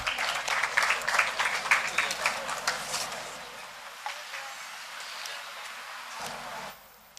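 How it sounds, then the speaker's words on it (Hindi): Hall audience at a Hindi literary festival session on Tulsidas and Kabir applauds to welcome speakers to the stage, a dense, steady round of clapping for several seconds that tapers into quieter room sound. "जोरदार तालियों के साथ स्वागत करिए।"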